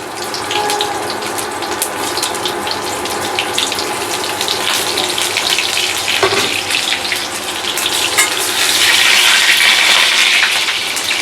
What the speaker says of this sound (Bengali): তো এখন আমি পটল তেলের মধ্যে দিয়ে দিচ্ছি, দিয়ে আমি ভেজে নেব।